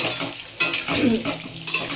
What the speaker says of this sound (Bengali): এখন আলুটা একটু ভাজা হোক